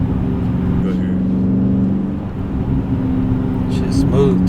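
Engine of a car running in manual paddle-shift mode, with a steady loud drone and a short throttle blip near the end during a gear change, voices talking over it from inside the cabin.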